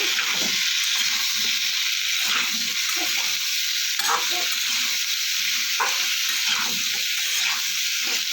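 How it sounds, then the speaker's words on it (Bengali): Raw papaya and potato frying with turmeric in a pan for a vegetarian dalna, with a steady close sizzle and occasional stirring scrapes throughout, no voices. "ওদিকে পেঁপেটা আলুটা ভাজা হচ্ছে,"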